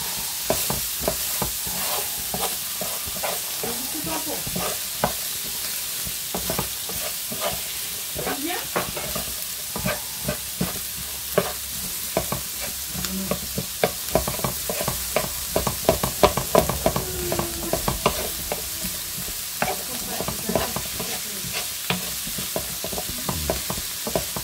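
A pan of corned beef and potato stew with flageolet beans is stirred steadily, the spoon scraping and clattering against the metal over a constant sizzle, with occasional louder clicks and no speech.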